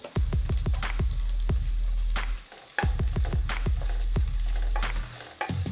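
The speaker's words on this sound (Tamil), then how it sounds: "நல்லா வதக்கி எடுத்துக்கலாங்க." Chopped onion sizzles loudly in hot oil in a pressure cooker, with a quick run of scraping stirs, a short pause, then another burst of rhythmic stirring over the constant frying hiss.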